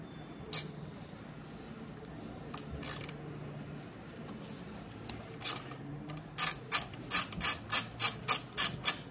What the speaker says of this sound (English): the first step here is to remove these two retaining bolts with your number 6 hex key